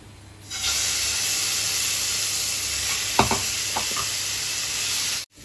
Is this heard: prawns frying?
yes